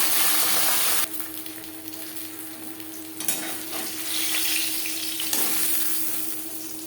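Fish pieces and a fish head sizzle and crackle in hot oil, a steady bright frying hiss with a few sharp bursts as the pieces shift in the pan.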